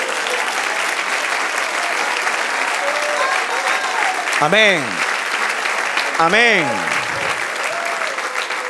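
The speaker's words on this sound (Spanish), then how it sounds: "Dale otro aplauso al Señor." Congregation applauding steadily through a Spanish-language church service, a loud continuous wash of clapping with voices calling out over it twice.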